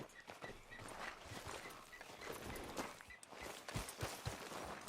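Horse hooves walking in the video game Red Dead Redemption 2: a steady, continuous clip-clop of hooves with some ambient outdoor noise beneath, heard without voices.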